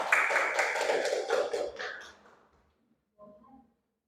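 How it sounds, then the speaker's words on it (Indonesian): A class applauds a presenter with a brief burst of clapping from a small group that fades out after about two seconds, followed by a short faint voice. "Kalau begitu, tepuk tangan dulu buat Isma."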